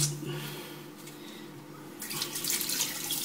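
Water running from a tap over makeup brushes being rinsed and squeezed at a sink, a steady splashing flow that grows brighter and louder partway through.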